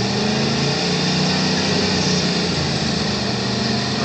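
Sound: Chevy car engine revving while spinning tires in a burnout

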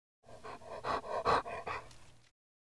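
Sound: big dog panting

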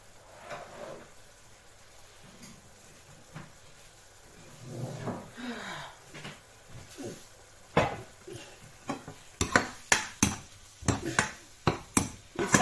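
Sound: stir-frying minced pork for larb

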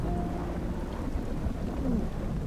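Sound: rain falling

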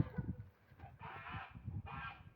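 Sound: geese honking

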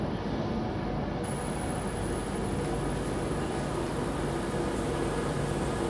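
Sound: long train passing

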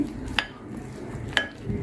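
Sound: stirring gram flour batter in a bowl

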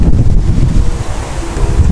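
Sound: wind

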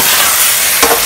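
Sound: stirring tomato mixture in a pan

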